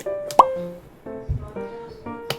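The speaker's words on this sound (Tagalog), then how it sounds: "Tapos, lagyan natin ng ketchup." Ketchup squeezed from a bottle onto a tortilla pizza, giving a few short wet plops and squirts close by, with a faint voice in the background.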